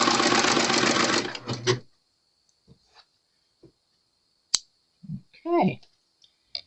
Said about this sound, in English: now I'm going to begin to serge